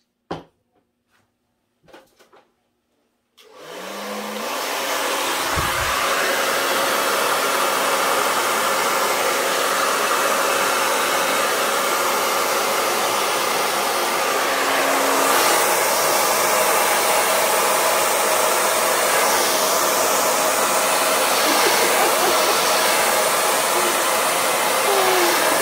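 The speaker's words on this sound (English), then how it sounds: "And now maybe the hair dryer." A few soft clicks, then a hair dryer switches on and blows over acrylic pour paint with a loud, steady whoosh that continues to the end.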